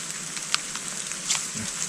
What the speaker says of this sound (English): all I can hear is the rain hit my head